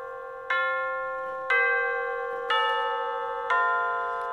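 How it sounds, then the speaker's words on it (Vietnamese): Four identical bright chime tones strike at even one-second intervals, each ringing on and slowly fading, clear and close with no talking. "với mỗi khung giờ hẹn ấy nó sẽ kêu chuông như này"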